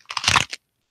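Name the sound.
crunch of biting a kosher pickle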